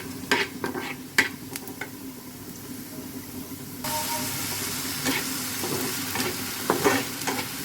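Small pieces of meat for momo filling hit a hot pan and are stir-fried. Soft scraping and clinking at first, then a sudden loud hissing sizzle that keeps going under further stirring strokes.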